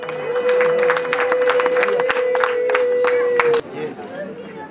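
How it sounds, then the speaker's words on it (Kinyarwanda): Wedding guests applauding and cheering at an evening reception; dense steady clapping with crowd chatter and a sustained tone running through, then cutting back to a quieter murmur near the end. "amashyi menshi cyane"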